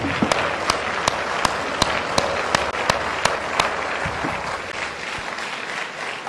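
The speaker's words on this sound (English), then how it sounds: "join me while standing as we give His Excellency a round of applause for this" An audience at a standing ovation for a state governor claps steadily, with a dense wash of applause and a few sharp, louder claps standing out throughout before it eases slightly near the end.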